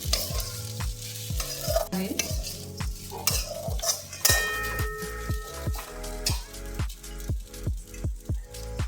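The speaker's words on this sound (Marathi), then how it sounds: "दाण्याचा पोट घातलेला आहे आता मिक्स करून छानपैकी" A spoon repeatedly stirs sabudana khichdi mixed with peanut powder in a pan, rhythmic close scraping strokes over a light sizzle, with no talking.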